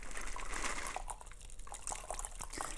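A gin gimlet cocktail is poured from a shaker into a Nick and Nora glass, giving a steady, soft liquid splash and trickle heard up close with no talking.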